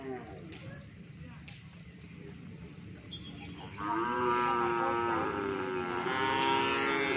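A cow moos loudly in long, drawn-out calls over faint outdoor background noise, close by and repeated.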